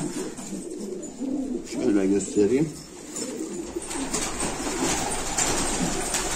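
Prized pigeons cooing close by in a loft, low throaty rolling coos rising in the middle of the stretch while someone speaks in Turkish.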